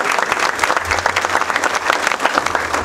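Crowd at a university press conference applauding steadily, a dense continuous clapping that stays loud throughout with a faint low hum underneath.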